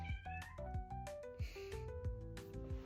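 A cat named Kimchi meows repeatedly, several short close meows in a row over a busy background of other sounds.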